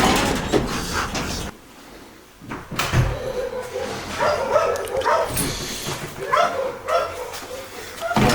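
Service dogs bark repeatedly nearby, sharp yaps and whines mixed with clattering and a person's voice in the background.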